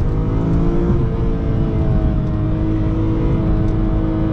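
BMW E46 M3 with Michelin PS4S tires and stiffer sway bars, heard from inside under hard acceleration: a loud, steady, rising engine drone that holds continuously with no talk.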